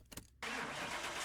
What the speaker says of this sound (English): let's get this one started and see what that Coyote sounds like